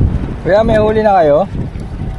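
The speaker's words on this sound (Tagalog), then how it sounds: "Lakas kasi ng hangin guys eh." Strong wind buffets the microphone outdoors near water with steady low rumbling gusts, while someone speaks briefly over the noise.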